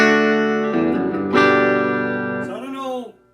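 An electric guitar with Guitar Fetish P90 pickups plays through the clean channel of a Bugera G5 Infinium amp head, a few bright sustained chords ringing out one after another and fading at the end.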